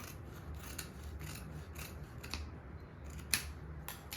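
Scissors cutting blouse fabric at a tailoring table, heard as steady, close rasping snips with a low background hum, a few sharper clicks near the end, and no talk.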